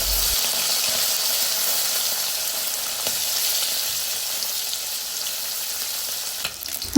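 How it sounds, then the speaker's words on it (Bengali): Small fish fry in hot oil and are turned to the other side, giving a steady close sizzle and crackle with a few soft scraping and stirring touches, and a brief bump near the end. "এক পাশ ভাজা হয়ে গেছে উল্টে অপর পাশে ভালোভাবে ভেজে নেব"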